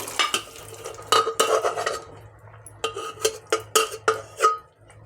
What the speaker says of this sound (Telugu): ఇప్పుడు ఈ బఠానీలు ఉడుకున్న బఠానీలు ఇందులో వేసేద్దాము